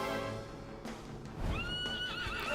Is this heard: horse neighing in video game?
yes